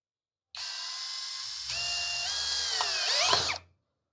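Tecepo 21V cordless drill driving a screw into a wooden rafter until the screw snaps: a close, loud motor whine that strains and drops in pitch under load, then a brief ratcheting burst before it cuts off.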